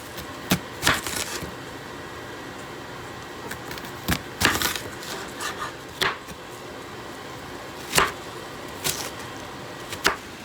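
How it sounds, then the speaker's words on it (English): Irregular knife chops on a cutting board while dicing onions, sharp wooden taps spaced unevenly over a faint background hiss. "The onions I'm going to dice up a little bit more than the peppers"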